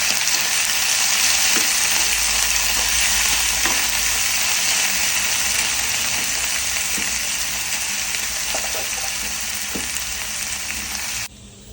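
A tempering of seasonings sizzles and fries steadily in a pan for drumstick-leaf dal curry, a loud, even hiss with faint stirring clicks, close and continuous before cutting off at the end.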